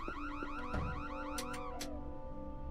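A car alarm in the Nancy Drew: Secrets Can Kill video game blares for a few seconds, a loud warbling electronic siren sweeping up and down, heard alone and then trailing off.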